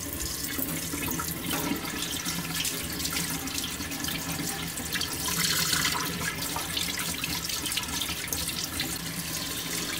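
Water runs steadily from a tap into a sink while skin is rinsed off, a constant rushing stream with slight splashing variations, close and moderately loud throughout.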